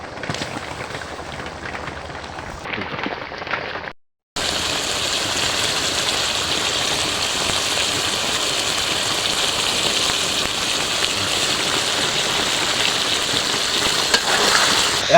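Potatoes dropped into a pan of beef with chui jhal and garlic, then a loud, steady hissing fry that runs on evenly after a brief pause.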